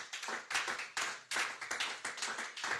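A church congregation claps in praise of the Lord, loud and close, with steady rhythmic handclaps and no voices.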